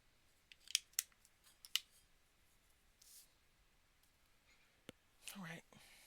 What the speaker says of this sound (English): we still got to cut this card down some